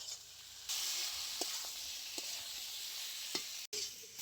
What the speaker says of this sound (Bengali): তো এবারে আমি দিয়ে দিচ্ছি আগে থেকে ভেজে রাখা আলু পটল। আরো বেশ কিছুক্ষণ কষিয়ে নেব মশলার মধ্যে।